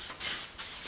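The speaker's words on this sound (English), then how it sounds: "spray it down" Gloss coat cleaner sprayed onto a motorcycle's plastic fender in bursts, two crisp hissing sprays with a brief gap between them, close and loud.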